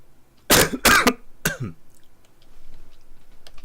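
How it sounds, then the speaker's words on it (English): Three harsh, loud coughs come in quick succession up close, followed by quieter breathing and faint background noise. "I can have a coughing fit and just choke in my own sputum"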